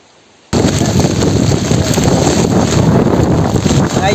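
Stormy wind and heavy rain buffet the microphone at the seashore, bursting in after a brief quiet start into a loud, continuous roaring rush with gusty blasts.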